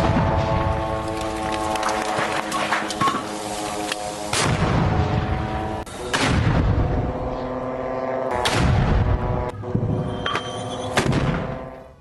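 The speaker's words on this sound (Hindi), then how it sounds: "मोर्टार से किया गया ताबड़तोड़ हमला" Mortar fire in a Saraya al-Quds attack on an Israeli military site: repeated loud booming blasts, about five heavy bursts over twelve seconds, with continuous rumble and crackle between them.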